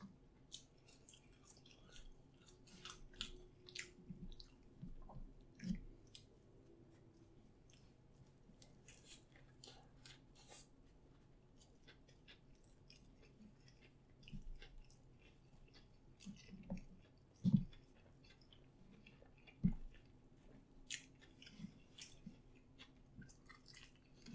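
Quiet, close chewing of Popeyes Cajun rice and fried chicken, soft wet mouth sounds and occasional crunchy bites spread over a low background, with no talking.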